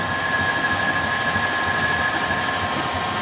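A lathe takes a light spring pass on a handmade motorcycle headstock for a custom chopper, giving a steady mechanical whir with a faint high tone, close and continuous with no talking.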